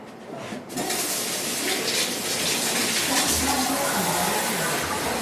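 Water from a kitchen tap gushes steadily into a container being filled for brewing iced tea, starting with a click then a continuous close rushing stream.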